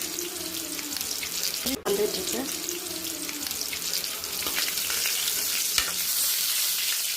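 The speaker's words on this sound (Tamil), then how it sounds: "சில்லி ஃபிஷ் நல்லா அழகாக வந்துட்டுருக்கு" Chilli fish pieces fry in hot oil in a Tamil home kitchen, making a steady broadband sizzle and bubbling throughout, with a sharp clatter near the start and occasional stirring knocks.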